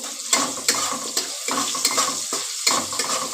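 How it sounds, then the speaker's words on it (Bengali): Paneer cubes sizzle and fry in a pan while a utensil stirs them, bright hissing crackle punctuated by several sharp scraping clanks against the metal, loud and close. "আর একটু ভেজে নিই"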